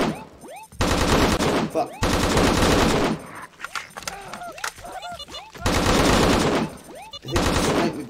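Rapid automatic gunfire in the video game Swamp Death, several loud sustained bursts with brief gaps between them, while a player speaks briefly.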